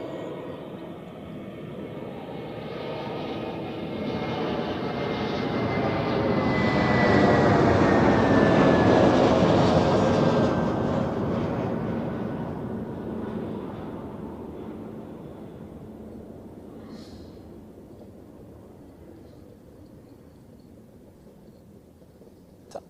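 An airliner lands at Zurich Airport, its engine roar swelling to a loud broadband rush mid-way as reverse thrust is applied, then fading steadily as the jet slows down the runway, with no talk.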